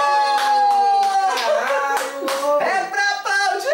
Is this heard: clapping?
yes